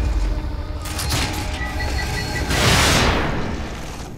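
An explosive crossbow bolt bursts in The Evil Within, a loud rumbling blast that swells in the second half and fades slowly, after a few mechanical clicks.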